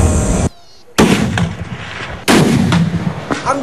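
Sniper rifles, including a Barrett used by Marines, fire during confidence firing. There are three or four loud, sharp reports, each with a rolling boom and echo, and a brief hush between the first two shots.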